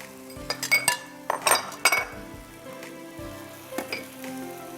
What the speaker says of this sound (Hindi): चिकन को इसके साथ पकने के लिए ऐसे छोड़ दीजिएगा।